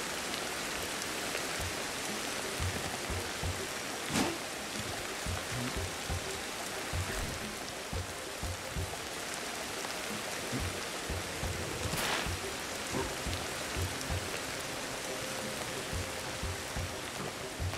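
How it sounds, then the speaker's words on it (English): Steady rain falls in the video game Ancestors: The Humankind Odyssey, an even, hissing patter of drops with a couple of sharper splats standing out, constant and moderately loud with no voices. "I need to find shelter from the rain, I feel."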